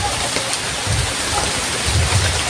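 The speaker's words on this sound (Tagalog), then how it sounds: "Malakas naman yung ulan." Heavy rain pours down in a continuous dense hiss, with low rumbling swells like distant thunder breaking through a couple of times; no voices.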